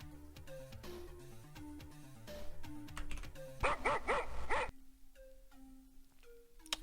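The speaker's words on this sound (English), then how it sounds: "Sorry about the loud dog barking." A dog barks loudly in a quick cluster of sharp barks midway through, rising over electronic beeps and tones from a computer game playing throughout.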